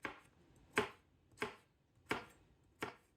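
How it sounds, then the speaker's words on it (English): A knife chops carrots into coins on a cutting board, five crisp, evenly spaced strikes close up in an otherwise quiet kitchen. "I love the sound of chopping vegetables on a cutting board."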